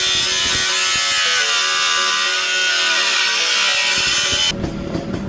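A power tool cuts into a BMW exhaust muffler with a loud, sustained high-pitched grinding whine up close, then stops abruptly, leaving quieter handling noise.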